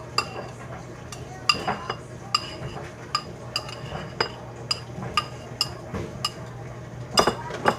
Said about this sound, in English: I'm just gonna go ahead and finish stirring this in and mixing it in.